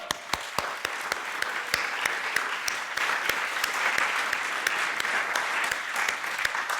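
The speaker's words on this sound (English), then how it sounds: "can everyone join me in a final round of applause for just all of our oral authors for their fantastic work?" An audience at a machine learning conference workshop gives a sustained round of clapping for oral presenters, steady and full with sharp individual claps standing out near the front throughout.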